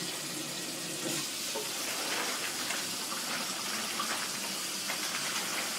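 Tap water gushing steadily over a slab of hot-cured bacon being rinsed in a kitchen, a loud, close, continuous hiss and splash with no voices.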